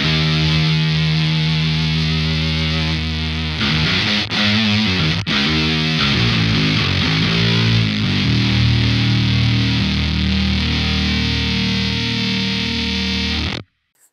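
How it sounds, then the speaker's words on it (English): An electric guitar through a Plasma Coil fuzz pedal gives a thick, hairy, heavily distorted tone: sustained chords and shifting riffs continue loud and alone for several seconds before cutting off. "that is my plasma coil."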